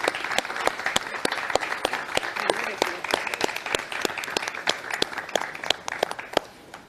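Dense audience applause at a commemoration ceremony for the abolition of the army, with many sharp individual claps sounding steadily over a crowd wash for about seven seconds before easing off.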